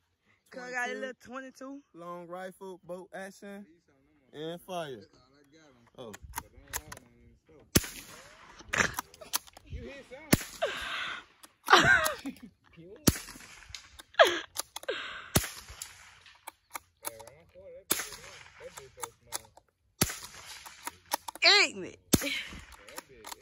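A .22 gun fires outdoors in the countryside, with sharp, widely spaced single shots that are fairly close. People talk and laugh between the shots.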